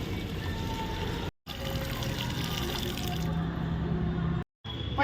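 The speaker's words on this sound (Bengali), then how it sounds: "গাছ বসানো হয়ে গেছে এবার গাছের জলটা দিলে হয়ে যাবে" Water pours steadily onto a newly planted plant, a continuous close splashing and trickling that briefly drops out twice.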